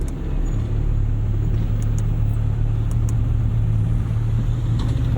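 A manual Porsche 991.2 GT3 with its free-revving 4-liter engine drives along, heard from inside as a loud, steady engine drone with road rumble under it and no talk.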